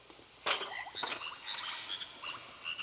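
Frogs croak in a steady chorus of short, chirpy, repeated calls, some nearer and some farther off, with no voices over them.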